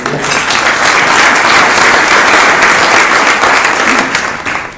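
A Rotary Club audience gives a loud, sustained round of applause, a thick wash of many hands clapping together that holds steady before tapering off at the end.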